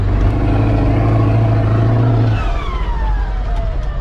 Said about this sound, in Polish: Cofka z turbiny jest piękna, nie?